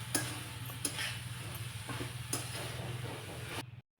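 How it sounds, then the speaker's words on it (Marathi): Vegetables with a pinch of turmeric stirred in a pan on the stove, a few distinct spoon scrapes and knocks over a low sizzle and steady hum, close, ending abruptly. "पुन्हा एकदा चांगलं हे मिक्स करून घेते"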